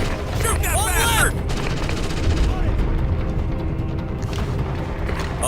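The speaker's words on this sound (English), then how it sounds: "Captain, taking hostile fire." Hostile automatic gunfire in Ghost Recon Advanced Warfighter, loud and continuous with rattling bursts and heavy booms and no break in the barrage, while a radio voice calls out over the shooting.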